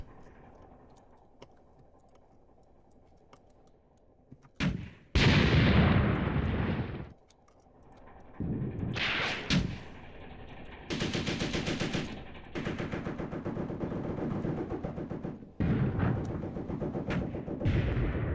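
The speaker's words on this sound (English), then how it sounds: "one of our tanks is actually now firing over here" Tanks fire in a WWII battle at Chouigui Pass, Tunisia, 1943, in a tank warfare video game: heavy cannon blasts and bursts of machine-gun fire come in loud, broken volleys after a quieter rumbling start.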